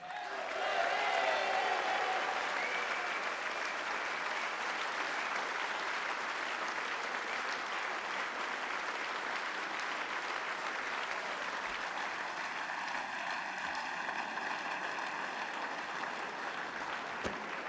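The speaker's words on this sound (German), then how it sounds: "ich möchte, dass sie ihn mit einem ganz, ganz heißen und warmen Applaus hier auf der Bühne willkommen heißt" Sustained warm applause from a festival crowd at the Blues Festival in Lahnstein, welcoming guitarist Carl Carlton onto the stage; steady, dense clapping swells early and holds evenly throughout.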